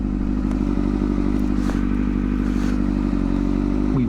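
A 2007 Kawasaki ZX6R motorcycle ridden at low revs with early upshifts, its engine a steady, loud, close rumble mixed with wind buffeting and a few faint clunks.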